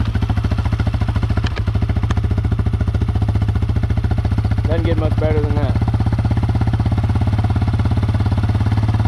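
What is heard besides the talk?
2002 Yamaha Wolverine 350 ATV engine starting and idling, no exhaust baffle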